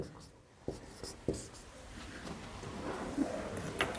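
A pen scratches quickly across paper as exam answers are written by hand at speed, with a steady close scratching broken by a few sharper taps.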